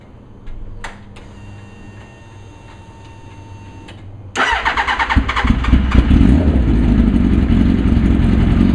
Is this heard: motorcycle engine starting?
yes